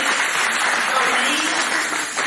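Crowd applause for a nun at a church community day gathering, a steady dense wash of clapping that fills the whole moment without pause.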